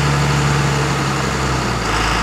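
A 12V Cummins diesel truck engine fitted with a VE pump runs loud and near, a steady heavy drone with a low hum and no voices.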